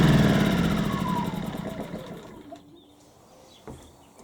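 An HY2000Si portable generator engine is shut off: a loud, steady mid-pitched running hum that winds down and fades over a few seconds to near quiet, with a couple of faint knocks after.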